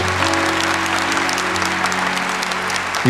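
A church audience applauds forcefully at a religious talk, producing dense, sustained clapping at steady loudness from a large crowd for the whole stretch.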